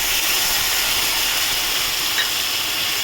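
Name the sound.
mustard paste sizzling in hot oil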